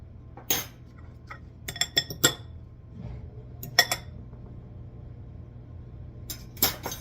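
A utensil mixing egg filling with mayonnaise in a bowl for a Japanese egg sandwich, giving sharp scattered clinks and scrapes against the bowl with quiet gaps between strokes.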